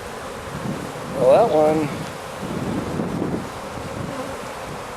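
Honeybees humming around an open active hive outdoors, a constant low buzz with wind noise on the microphone, and someone speaking briefly over it.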